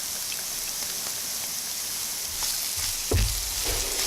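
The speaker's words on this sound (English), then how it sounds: "I'm taking time here to saute it" Onion sizzling as it sautés and caramelizes in olive oil, with a steady close hiss and a few louder crackles and spatters near the end; no talking.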